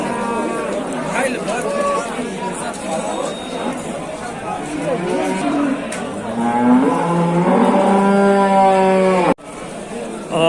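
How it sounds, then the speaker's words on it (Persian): Cows with calves lowing at a busy livestock market in Dushanbe, Tajikistan, with several long moos rising over the steady chatter of a crowd of traders talking nearby. "بریم ببینیم گولاده"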